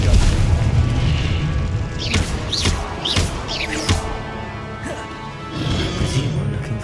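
The Confringo explosion spell in the video game Hogwarts Legacy goes off in heavy booming blasts with crashing impacts, loud and dense over a continuous rumbling game soundscape, with a brief voice shout.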